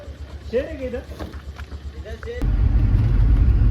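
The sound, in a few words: loaded mango truck setting off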